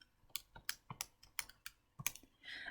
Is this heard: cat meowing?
no